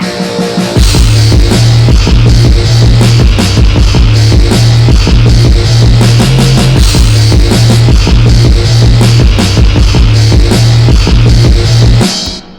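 A full heavy metal track with every part playing at once: pounding low drums and chugging distorted guitar riffs in a tight driving rhythm, loud and dense throughout, cutting off at the end.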